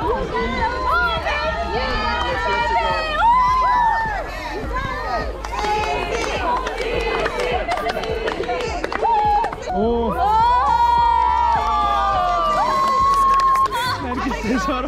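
A big outdoor crowd at a cenote in Mexico cheers and shouts, urging a child to jump into the water, with loud overlapping voices, whistles and rising yells that swell and dip over a noisy echoing background.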